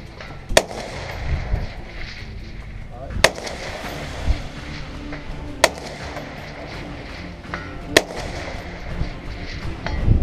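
Rifle shots ring out at an outdoor shooting range, with several sharp, loud reports spaced a few seconds apart. People talk in between, over a steady outdoor background.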